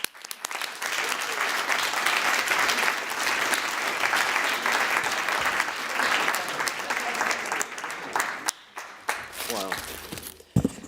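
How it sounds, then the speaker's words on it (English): An audience at a Berlinale independent jury award ceremony gives loud, sustained applause that thins out near the end, when a voice begins to speak. "This deserves our applause as humans."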